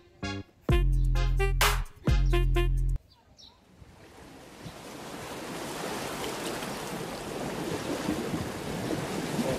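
Ocean waves wash in a steady rushing surge that builds after a few loud tonal blasts at the start, with wind buffeting the microphone.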